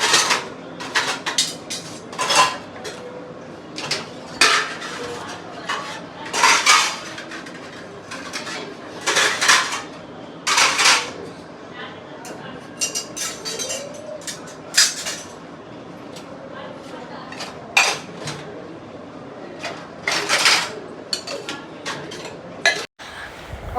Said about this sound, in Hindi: यहाँ पे हमारे बर्तन भी धुल गए हैं, ये देखो। फटाफट से इनको भी अरेंज कर देते हैं।